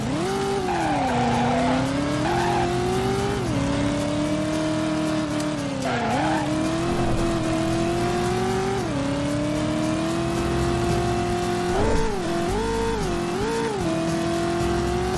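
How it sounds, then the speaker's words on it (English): Cars race and corner in the Driver video game, with a steady engine drone rising and falling in pitch and tires squealing repeatedly through skids, loud and continuous with no gaps. "the cars in this game are just so much fun to drive"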